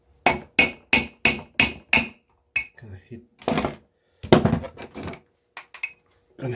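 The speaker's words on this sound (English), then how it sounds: "Okay, got the hammer." A hammer strikes metal six times in a quick, even rhythm, close and loud, knocking the shaft out of an aluminum-housed electric motor, followed by scattered lighter metallic knocks and clatter.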